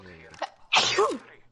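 A sharp, close sneeze bursts out once after a moment of quiet voice sounds, in a gaming voice chat.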